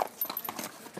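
A white horse's hooves clip-clop in an irregular series of light, close knocks, some louder than others, with faint background noise and no talk.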